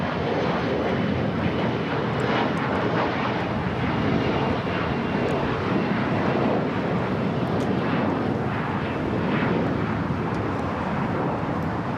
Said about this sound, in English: The Austrian now starting its roll down at 25 right.